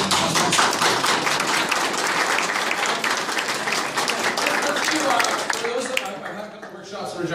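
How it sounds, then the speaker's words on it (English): Audience at an electoral reform town hall breaks into a sustained, dense round of applause, loud and full for several seconds before tapering slightly near the end. "Let's do a round of applause for those that I've had"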